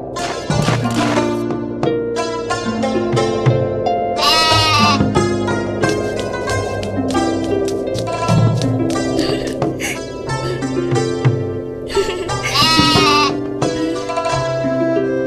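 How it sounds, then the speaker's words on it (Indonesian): Goat bleats repeatedly over a dense layer of layered tonal music, the animal calls rising in several clusters across the whole stretch, fairly loud and close. "Itu namanya kambing pintar."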